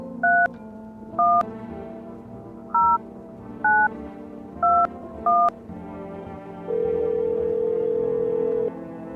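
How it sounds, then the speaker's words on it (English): Telephone dialing in the video game No, I'm not a Human: six short dual-tone keypad beeps at an uneven pace, followed by a longer steady ringing tone. "Can I phone my neighbor?"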